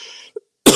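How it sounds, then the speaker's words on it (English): A single sharp cough bursts out close to the microphone at the end, after a brief breathy sound and a tiny click, during a live build of a Gaz AAA truck and field kitchen kit. "I apologize for a little extra coughing here."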